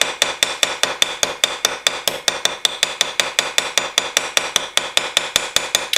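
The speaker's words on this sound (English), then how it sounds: "Notice how I just kind of let the hammer bounce back and forth." Rapid, even hammer taps on a straight razor pivot pin, a steady ringing rhythm of about six blows per second, close and crisp.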